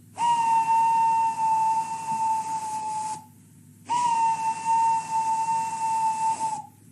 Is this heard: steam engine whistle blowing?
yes